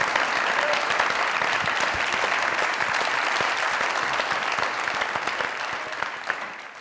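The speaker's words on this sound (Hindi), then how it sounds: "जोरदार तालियां।" Loud, sustained applause from a studio audience at a Pakistani comedy show, dense clapping throughout that tapers slightly toward the end.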